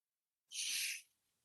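A breath pushed through a whistle-like breathwork necklace gives one airy, hissing whistle tone lasting about half a second, close and fairly clear, then fading to a faint breathy tail.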